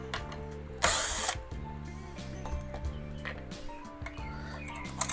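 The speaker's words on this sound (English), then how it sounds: "Now I'm going to take these two screws out." A power driver whirs in short bursts with ratcheting clicks, taking two screws out of a recessed light fixture, close and loud, with one brief harsh burst near the start.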